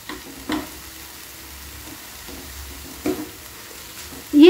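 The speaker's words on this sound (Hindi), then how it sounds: "और इसे एक बार से मिक्स कर लेंगे।" Vegetables with salt being stirred in a pan for spinach and paneer soup, a low sizzle with a few scraping stir strokes and a brief metallic scrape at the end, close and fairly quiet, no talk.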